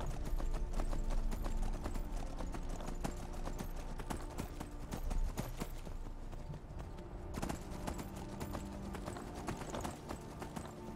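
Horse hooves clip-clop steadily in Skyrim as a rider travels a long road, a continuous brisk trot of close, fairly loud footfalls with no talking over it.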